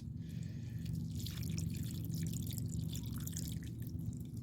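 Water poured onto a potted Peruvian apple cactus cutting, a steady dripping and trickling into the soil that stays close and even for several seconds with no talking.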